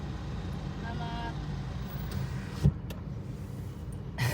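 Road traffic heard from inside a vehicle as a low, steady rumble, broken by a couple of brief sharp knocks, with voices talking faintly over it.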